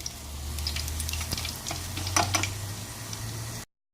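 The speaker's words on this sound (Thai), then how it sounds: "ทีนี้ก็ลงไปทอดเลยทอดให้มันเหลืองกับข้างพอสุกแล้วตักออกนะคะ" Mullet fish frying in hot oil in a pan, a continuous close sizzle with bursts of crackling and popping spatter throughout, with no talking.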